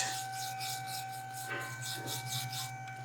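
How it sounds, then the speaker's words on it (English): Stiff brush scrubbing oxidation off an aluminum AC line on a 2012 Audi Q7 before TIG welding, a continuous rhythmic rasping scrub over a steady electrical hum. "Gotta clean it with a brush I only use for aluminum."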